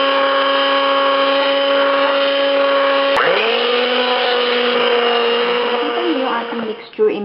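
An electric mixer beats crinkle cookie dough with flour, a steady high whirring drone whose pitch dips as the beaters bite into the thicker mix, then a clatter at the end.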